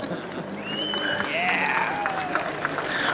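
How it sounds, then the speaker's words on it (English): A crowd cheers and claps at a Formula Student skid pad event, a steady outdoor roar with scattered claps and whistles that stays loud for the whole stretch. "Everybody give the guy holding up the screen a cheer."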